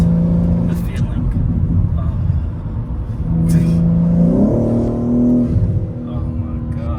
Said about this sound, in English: just the intake on this car, that's it. And a valve controller, and wow, the sounds, the feeling.